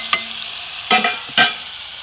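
A spatula scrapes through a sizzling pan of drumstick and broad bean curry in three quick strokes, with a steady frying hiss between them.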